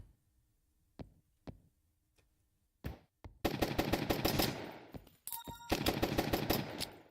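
Gunfire from the run-and-gun zombie roguelite Zombiehood: a few isolated sharp shots, then dense rapid automatic bursts rattling loudly for several seconds with a short pause between them.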